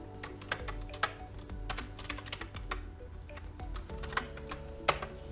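Rapid clicking of fingers typing on a computer keyboard, close and fairly quiet. Irregular bursts of keystrokes come with brief pauses and a few sharper, harder key hits, and no one speaks.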